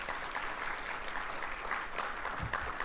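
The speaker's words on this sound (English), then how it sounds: "Please give them a round of applause" Faint, steady applause from an audience at an infrastructure-center announcement event, an even patter of many hands clapping with no voices.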